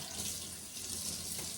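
Items are washed under a running sink tap, giving a steady, close hiss of flowing water for a brief stretch.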